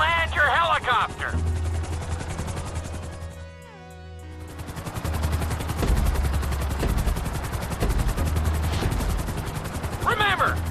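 A helicopter in Grand Theft Auto V gives a fast, steady rotor chop throughout, with loud, close bursts of rapid gunfire layered in and a brief dip near the middle.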